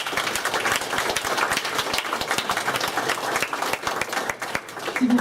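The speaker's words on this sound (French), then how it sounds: "On les applaudit sinon" Wedding guests applauding together at a ceremony, a steady dense clapping from a crowd that holds for several seconds at an even level, with a voice briefly heard near the end.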